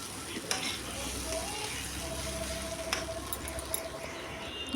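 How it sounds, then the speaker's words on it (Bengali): Food frying in a pan gives a steady, close sizzle with soft stirring scrapes and a few faint clinks throughout. "আর এদিকে কিন্তু আমার ভাজাটা প্রায় কমপ্লিট হয়ে এসছে"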